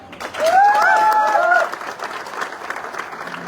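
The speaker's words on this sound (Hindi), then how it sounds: "दोस्तों मैं चाहूंगा आदित्य सर के लिए भी जोरदार ताली।" Loud audience applause at an award event celebrating a new Audi A4 car achiever, a dense wash of clapping from a crowd with a brief overlapping tonal sound early on, then settling into steady, softer clapping.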